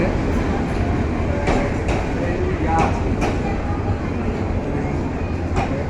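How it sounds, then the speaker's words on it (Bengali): The Dolonchapa Express rolling into a small rural station, a loud continuous rumble of wheels and carriages with occasional clanks and squeaks, heard close at trackside. "পঞ্চগড়ে দৌলতচাপা এক্সপ্রেস এই মুহূর্তে বন্দর প্রবেশ করছে।"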